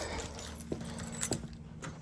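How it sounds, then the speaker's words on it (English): Car keys for a 2021 Nissan Rogue jangle in a few quick metallic bursts, close and light, against a quiet garage hum. "So now we're gonna grab the keys."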